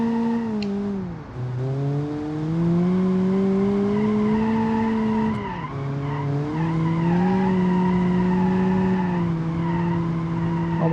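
Long, loud tire squeal from a car braking without ABS in BeamNG.Drive, a sustained wavering screech that dips and rises in pitch over several seconds with engine noise underneath and no talking.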